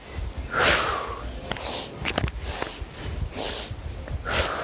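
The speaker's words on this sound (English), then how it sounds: "the breath of joy is a 3-part inhale and then a 1 forceful exhale" Yoga breath of joy: a three-part inhale through the nose followed by one forceful exhale, repeated in cycles; close, airy snorting breaths with sharp sniffs between them, without speech.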